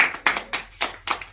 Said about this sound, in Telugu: కంగ్రాట్స్. క్లాప్స్ కొట్టండి.